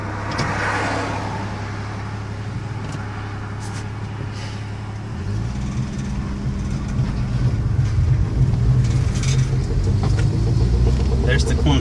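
Drivetrain of a 1967 AMC Rebel, with a steady engine drone that shifts partway through and a low, irregular clunking from the transmission, loud and close, while people talk faintly.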